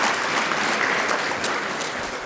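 An audience at a civil rights symposium breaks into applause, a dense, even patter of many hands clapping steadily throughout a short burst.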